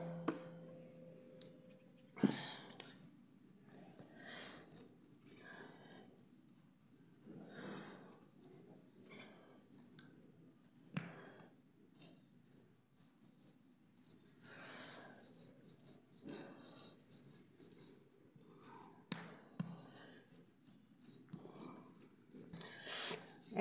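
Dough for namak pare is rolled out with a rolling pin in a village kitchen. The pin makes repeated soft rubbing, rasping strokes with light knocks and clicks. It is close and fairly quiet, with no talk.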